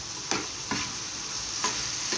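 Onions fry in a pan with a pinch of sugar while a utensil stirs them, producing a continuous sizzle punctuated by four soft scraping strokes, with no talk.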